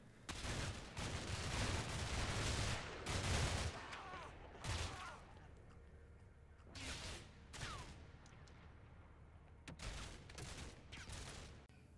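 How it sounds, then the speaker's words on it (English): Small arms fire and explosives from a platoon assault in the Cold War video game Combat Mission Cold War: dense, ragged volleys of gunfire and sharp blasts, loudest early and then breaking into scattered bursts and single cracks. "returning their fire with a ferocious volley of small arms and explosives"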